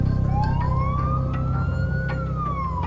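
An ambulance siren wails while the vehicle drives a critical patient to hospital under lights and sirens, a loud rising and falling tone sweeping over heavy engine and road rumble, close and continuous with no talk.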